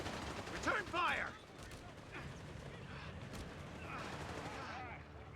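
Distant, fairly quiet rattling gunfire in a Company of Heroes 3 match, scattered bursts mixed with mechanical clatter and battlefield noise, with a voice speaking over it.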